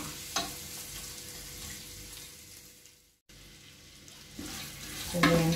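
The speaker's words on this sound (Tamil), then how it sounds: "இந்த வெங்காயத்தை நல்லா வதக்கிக்கலாம். வெங்காயம் கொஞ்சம் வதங்கட்டும்." Onions sautéing in a pan for egg biryani, a steady soft sizzle with occasional stirring scrapes, briefly dropping out before continuing, with a louder clatter near the end.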